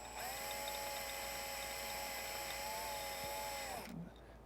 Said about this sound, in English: Take a little drill bit just to start it.